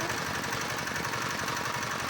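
A repaired diesel engine on a concrete mixer runs with fresh piston rings and reseated valves, a loud, steady, rapid knocking chug close by, with no talking.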